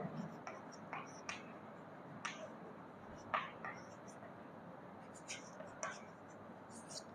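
Writing during an electrical engineering lecture on measuring instruments: quiet, scratchy pen strokes in short irregular bursts over a steady low hiss, with faint breathy murmuring in the background.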